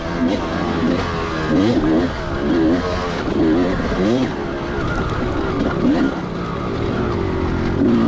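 A 2004 Kawasaki KX250 two-stroke dirt bike laps the track at Table Rock Dirt Park, its engine rising and falling in repeated revving pitch sweeps, loud and close, with wind noise over the sound.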